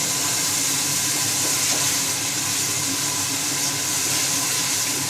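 Onion fried with ginger garlic paste for mutton paya: a steady, dense frying sizzle and hiss, close and continuous, with no one talking.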